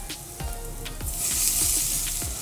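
Boiled egg pieces frying with onions and garam masala in a pan, a soft crackling sizzle with a series of scraping stirs. The frying hiss grows a little brighter partway through.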